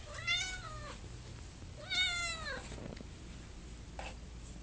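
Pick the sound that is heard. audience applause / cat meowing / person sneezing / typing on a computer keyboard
cat meowing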